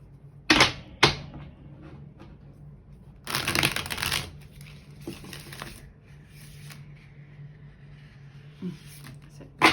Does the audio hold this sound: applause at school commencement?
no